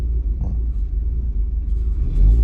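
A car engine with a burst fan clutch, its antifreeze replaced with water, idles with a low, steady rumble close by, swelling slightly toward the end.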